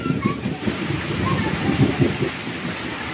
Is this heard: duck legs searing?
no